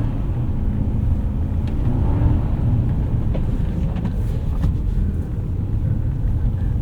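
A 2005 Lexus SC 430 on Michelin CrossClimate 2 tyres drives through snow, heard from inside as a steady, loud low rumble of engine and road noise with faint crunching texture and no talk.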